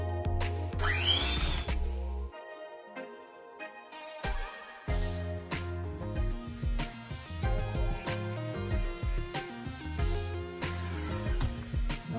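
An electric mixer whirs steadily through sorrel cake batter, starting and stopping in bursts with a pause in the middle, and the beaters clatter against the bowl at close range.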